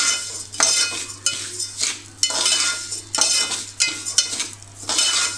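Semolina roasts in a pan over medium heat while a spoon stirs it in regular sweeping strokes, about six loud, close scrapes with short pauses between them.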